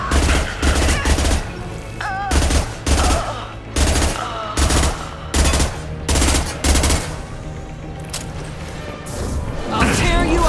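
Combat gunfire in Mass Effect 2 comes as rapid, loud bursts of shots in quick succession, with brief gaps and voices mixed into the battle noise.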